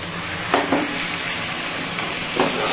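Ground cumin, coriander, turmeric, Kashmiri chili powder and salt with a splash of water sauté together in a pan for a papaya and prawn curry, giving a steady close sizzle with a few soft scraping stirs and no talking.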